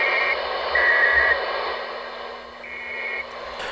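Steady radio static hiss with a faint carrier whine coming through a Uniden Bearcat 980SSB CB radio receiving a strong signal, loud and continuous, with a brief dip near the end.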